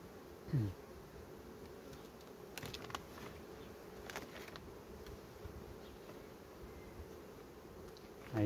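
A low, steady hum of many honey bees buzzing around a hive while queen cells are checked, fairly quiet and continuous, with a few faint rustles and knocks.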